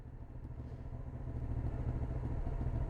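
Hyosung GT 650 Comet motorcycle engine idling steadily at close range, a dense low rumble that grows slightly louder over three seconds, with no voices.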